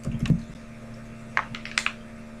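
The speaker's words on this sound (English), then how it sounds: "I am going to first type Google My Business." A few keystrokes on a computer keyboard, typing a search into Google: a soft cluster of taps near the start, then two brief groups of clicks later, light and close against a low steady hum.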